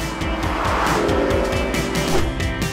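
A Porsche GTS sports car is driven hard on a race circuit, its engine roaring loud and close with rapid rising and falling revs as it shifts gears, accompanied by a brief tire squeal.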